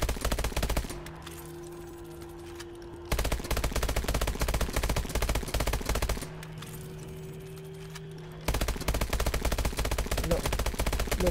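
Rapid automatic gunfire is aimed at the floor in the Exo Zombies mode of Call of Duty: Advanced Warfare. Loud bursts of shots come in two long stretches, and a quieter game hum with a steady tone fills the pauses.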